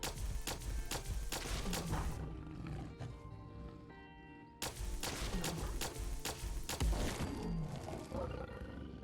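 Plasma variant energy weapon in Fallout 4 firing repeatedly, a rapid run of loud sharp blasts with ringing tonal tails, breaking briefly at mid-clip before the shots resume.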